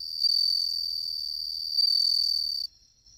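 Suzumushi bell crickets on an autumn night give a loud, continuous high ringing trill with bright overtones. It breaks off sharply near the end and leaves only a faint tone.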